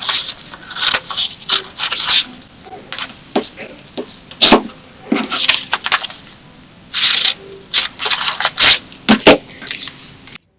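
Scissors roughly cut fabric tracings on paper-backed fusible web for a Christmas robin made from fabric scraps, giving close, irregular bursts of snipping and crisp rustling with short pauses between strokes.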